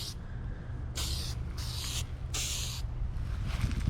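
A spray can lays a coating onto a pole spear outdoors in short bursts: four distinct hissing sprays in an irregular rhythm, close and clear over low wind rumble, with no speech.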